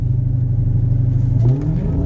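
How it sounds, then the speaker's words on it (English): A Dodge Hellcat launching at full throttle in a racing video game: a loud, steady engine drone that rises in pitch as it revs, with no talking. "To launch, press brake and quickly apply full throttle."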